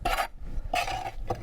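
Lime mortar is scraped off the edges of a mixer in three short, close rasping strokes with a metallic scratch, separated by brief pauses.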